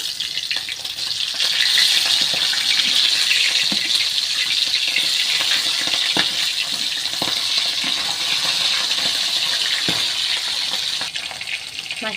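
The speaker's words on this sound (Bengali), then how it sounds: "এবার আমি মাছটা ভেজে নেব।" A hilsa fish head frying in oil in a wok gives a steady, close, loud hiss and crackle that runs the whole time, with small pops and clinks of turning scattered through it.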